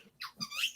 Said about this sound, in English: What is the duck noise?